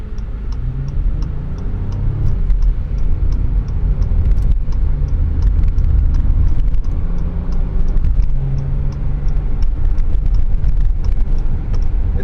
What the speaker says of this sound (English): We are just about to start moving from the red light, and let's see how this car will perform.